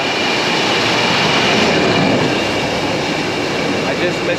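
Train passing at Uttaradit main railway station in Thailand, a loud, steady rumble and roar of rolling cars filling the whole stretch without a break.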